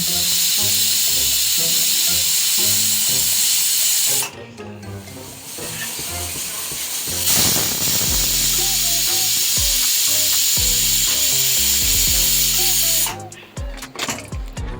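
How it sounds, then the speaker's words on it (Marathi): A pressure cooker on a gas stove, cooking raw banana sabji, whistles with a loud sustained hiss of escaping steam that drops off and then surges again, with faint background music underneath. "तर दोन तीन शिट्ट्या व्यवस्थित करून घेऊ"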